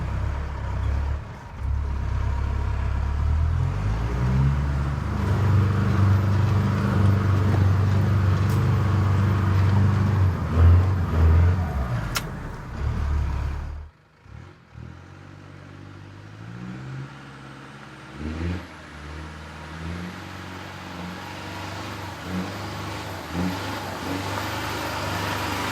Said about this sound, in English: We'll put it in third gear.